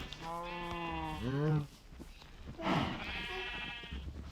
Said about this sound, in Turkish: Çünkü benim bir sürü koyunlarım var bahçemde.